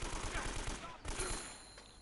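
Gunfire in Uncharted, a rapid rattle of automatic shots in a quick rhythmic burst, then a single louder report, fairly faint under the overall mix.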